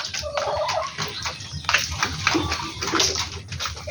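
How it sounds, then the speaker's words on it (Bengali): Flock of native hill chickens, including a large black laying hen, clucking and calling close by in a steady, busy chorus with some splashy background noise. "এই হলো আমার পাহাড়ি মুরগিগুলো।"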